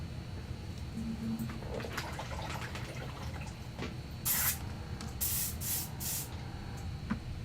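Airbrush spray of black armor wash hisses onto a Warhammer 40k Space Marine captain in terminator armor, several short bursts close up over a steady background hum.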